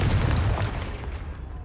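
The Confringo spell detonates in Hogwarts Legacy, a single deep booming blast with a rumbling tail that fades out over about a second, loud and close.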